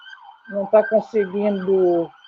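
A siren wails through a participant's microphone during an online debate session, a short rising and falling electronic tone with harmonic bands, loud and compressed, with no clear speech over it.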